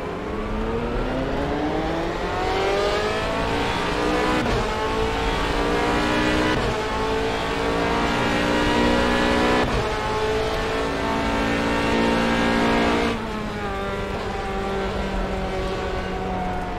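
A race car engine drones and revs continuously at Le Mans in the rFactor 2 simulator, loud and close, with pitch climbing through gears and dropping at several shifts, no talk.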